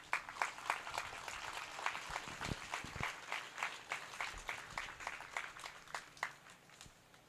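Thin, distinct clapping at an arts awards ceremony, individual hand claps repeating at a steady rhythm from a small audience, moderately close and fairly quiet.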